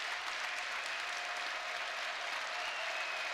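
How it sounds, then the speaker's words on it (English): Spectators at a college volleyball match between Iowa and Nebraska at Nebraska applaud and cheer in a steady, dense wash of clapping that holds at an even level throughout. "Crowd doing their thing again."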